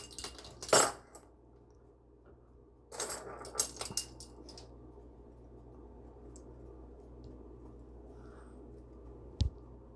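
Metal teaspoon clinking against glass beer bottles as sugar is added, one teaspoon per 16-ounce bottle during home brewing: a sharp cluster of clinks near the start, another burst around three to four seconds, then a quiet stretch and a single clink.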